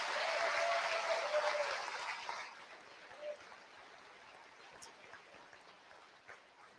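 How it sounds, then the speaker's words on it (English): Audience applause at a high school Veterans Day program, a broad dense wash of clapping for about two and a half seconds that then fades quickly into quiet room noise with a few scattered faint claps. "So let's give Jeremiah a round of applause."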